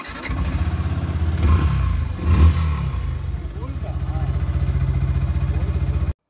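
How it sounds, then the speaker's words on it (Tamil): A Yamaha FZ S V3.0 BS6 motorcycle engine with an engine fault light starts and runs close by with a steady low, throbbing rumble that briefly swells near the middle, with a faint voice in the background. "செல்ஃபு ஸ்டார்ட் பண்ணுங்கள் ஸ்டார்ட் ஆகிடும் வண்டி"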